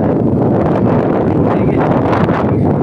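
Strong wind roars and buffets against the microphone, a loud, rumbling gusty rush with no voices, steady throughout.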